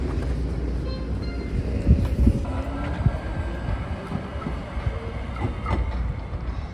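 A Baltimore Light RailLink light rail train runs steadily with a continuous rumble, wheel clatter and faint squeals, heard close from onboard with no talking.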